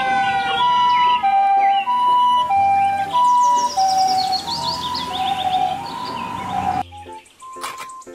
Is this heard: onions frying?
no